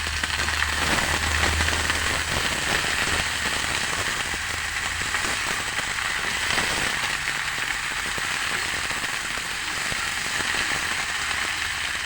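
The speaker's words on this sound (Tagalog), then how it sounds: "Umuulan po dito sa amin ngayon. Malakas po ang ulan" Heavy rain pours down steadily, a dense broadband hiss with a constant patter that holds at the same loud level throughout.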